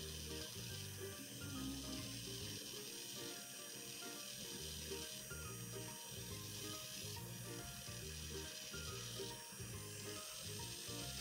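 A small DC motor driven at nearly full PWM duty, close to 5 volts, whirs steadily for the whole stretch with a faint ratcheting mechanical texture and no talk over it.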